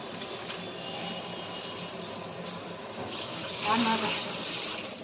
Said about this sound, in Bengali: ভালো করে ধুতে হবে, মাটি কাদা আছে